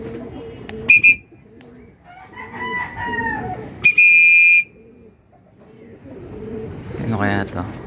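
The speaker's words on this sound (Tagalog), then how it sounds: "So meron na tayong pangatlong ibon." Bird sounds at a pigeon loft as a racing pigeon arrives from a 149 km training toss, with short calls and chirps, a crowing-like cry near the end, and someone talking throughout.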